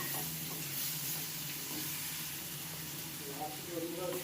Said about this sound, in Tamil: வெங்காயமும் தக்காளியும் நல்லா வதங்கணும்